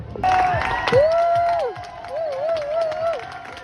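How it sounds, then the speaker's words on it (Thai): Excited crowd cheering and shouting at an outdoor bungee jump site, a busy mix of voices that rises and falls over several seconds, with a clear tonal melodic line riding on top. "กองเชียร์เต็มเลย"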